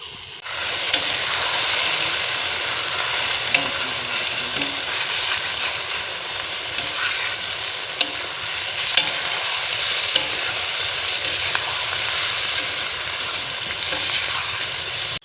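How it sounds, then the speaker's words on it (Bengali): Goat tripe frying in a pan with cumin, chilli powder and meat masala, heard as a loud continuous sizzle under steady scraping and stirring, close up throughout. "আমরা প্রথমে জিরা মশলা দিয়ে দিব, লঙ্কার গুঁড়া আমরা দিয়ে দিব, মিট মশলা দিয়ে দিব।"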